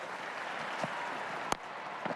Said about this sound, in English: Have a listen to the roar of the crowd.